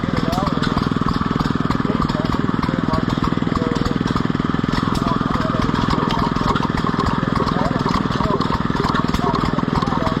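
A REO antique gas engine chugging at a county fair engine display while driving a water pump, a steady rapid putter throughout at close range, with someone talking over it.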